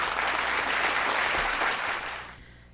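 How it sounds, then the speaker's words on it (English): A room of people claps steadily for a couple of seconds at a university education pinning ceremony, then the applause fades out quickly. "Please give the secondary education educator a round of applause."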